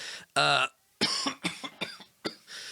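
A loud harsh cough up close, followed by a few more short throaty coughs and brief voice sounds in quick succession.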